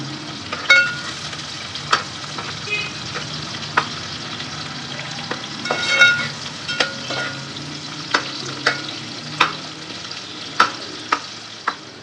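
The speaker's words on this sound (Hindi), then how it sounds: "अब प्याज को हम गोल्डन ब्राउन करेंगे।" Finely chopped onion frying in a pan with whole garam masala, a steady close sizzle punctuated by regular clinks and scrapes of a stirring spoon.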